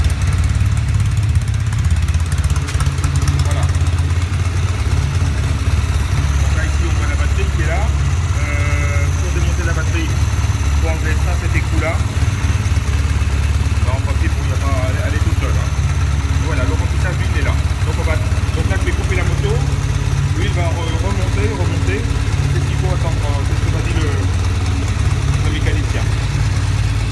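A motorcycle engine idling right after starting, a loud, steady low rumble throughout, with someone talking in French over it.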